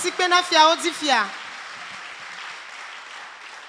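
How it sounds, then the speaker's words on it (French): A church congregation applauds and cheers after a sung acclamation for the king of kings. The sustained, fairly soft clapping continues after a voice calls out briefly at the start. "Acclamons pour le roi des rois."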